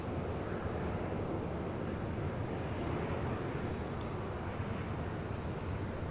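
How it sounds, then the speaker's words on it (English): An American Airlines A321 taking off at LAX, bound for Phoenix, gives a steady, broad jet roar that holds evenly throughout, with no voices over it. "Next takeoff is American Airlines Flight 721 heading to Phoenix, Arizona in the A321."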